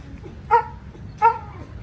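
Two sharp dog barks about 0.7 s apart ring out over a low background rumble, each one short and fairly close.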